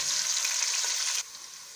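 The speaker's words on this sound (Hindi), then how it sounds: "अब प्याज को हम हल्का ब्राउन करेंगे।" Sliced onions frying in a pan until light brown, a loud close sizzle that cuts off abruptly partway, leaving a quieter low hiss.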